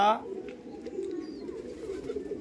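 Red Madrasi pigeons in a loft coo with a low, steady, continuous murmur, faint and close, while a voice speaks briefly at the start.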